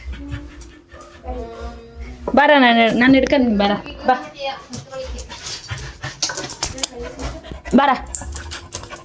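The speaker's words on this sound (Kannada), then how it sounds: "ಇದು ನೋಡಿದ್ದೀರಲ್ಲ ಈ ನಾಯಿ." A dog pants and whimpers close by in short, excited bursts while a person keeps calling to it and others talk.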